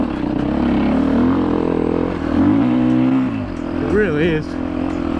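A dirt bike ridden across sand at dusk, its engine droning loudly and steadily with rising and falling pitch as the throttle shifts, heard under a rider's talk.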